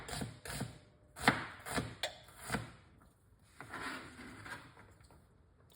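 White onion being chopped with a knife on a cutting board, a run of close, crisp chops in a loose rhythm, then a quieter pause and a few softer scraping cuts, with no talking.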